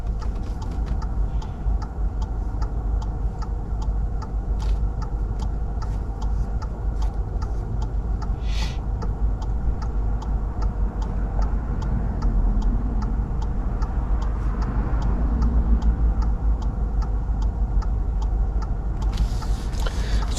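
A car's turn signal ticks in a steady, even rhythm inside the cabin during a left turn on a driving test route in West Didsbury, Manchester, over a low, constant engine and road hum.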